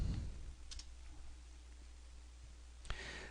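A few sparse clicks of typing on a computer keyboard, quiet and close, with long gaps of low hum between the short bursts.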